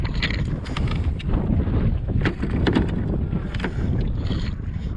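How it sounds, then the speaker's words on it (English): A Hornbeck canoe paddled on the Oswegatchie River through old forest, with steady water swishing and splashing under gusty wind noise on the microphone, close and continuous with no talking. "Maybe I'll paddle over to it."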